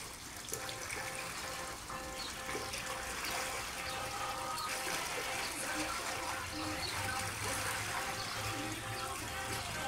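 Pool water sloshing and splashing continuously during a water aerobics class, a steady broadband wash that fills the whole stretch at moderate loudness, with faint voices mixed in.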